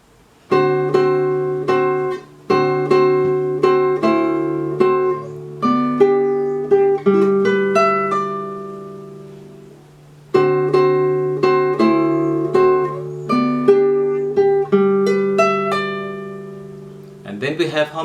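Nylon-string classical guitar playing two measures of Pernambuco's Sons de Carrilhoes, plucked bass and chord tones in a lilting repeated pattern, solo and close with notes ringing and decaying between phrases.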